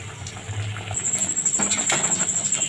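A bread cheese cutlet lowered into hot white oil in a wok, with a sizzling crackle that swells and stays fairly close and steady, under a faint high whine.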